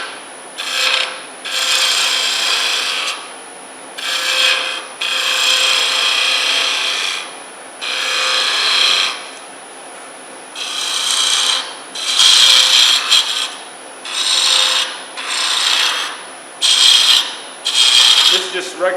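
Wood lathe spindle turning on a segmented baby rattle: a steady, close scraping and rasping of the tool against spinning wood, coming in repeated passes a second or two long with short pauses between them.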